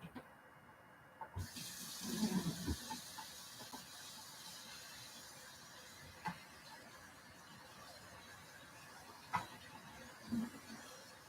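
Hot water runs from a kitchen tap as deli meat and cheese packaging is rinsed off in a sink, a close steady hiss broken by clatters and knocks of items being handled under the stream.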